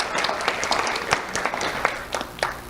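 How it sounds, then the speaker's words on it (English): Applause from an audience at a community awards ceremony honouring an elementary school student, a dense burst of clapping with sharp individual claps standing out, fairly loud and close, with no talking. "Let's have a round of applause for Abraham Lopez."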